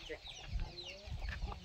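Village chickens, local free-range fowl, cluck in short irregular bursts nearby, with low rustling and faint background murmur.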